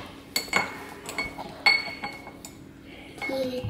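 A spoon clinks against the sides of a cup while a drink is stirred, several bright taps at an uneven pace close by, with a faint scrape between strikes.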